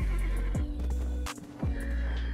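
Horse neighing in the online game Black Desert: two loud, close whinnies, each a sharp falling cry followed by a sustained tail, with no talking over them.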